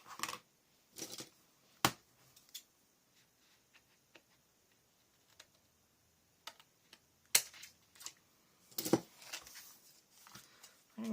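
Scissors snip bits of paper off a 12x12 scrapbook layout, a scattering of sharp, close clicks and crisp cuts separated by quiet pauses, with a louder cluster near the end.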